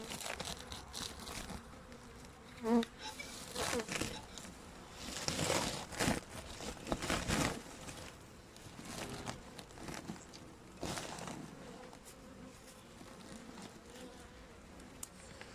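Honeybees at a standard wooden beehive in winter make a steady, close buzzing hum, broken by soft rustling and handling noises, with no voices.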